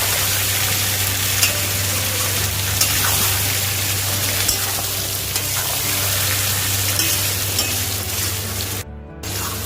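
Raw mango pieces fry with salt and turmeric in a pan, giving a dense, continuous sizzle with stirring scrapes and a low steady hum beneath, cut by a brief silent gap near the end.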